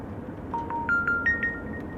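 A short electronic mobile phone ringtone plays a rising sequence of beeping tones, fairly quiet against low background noise.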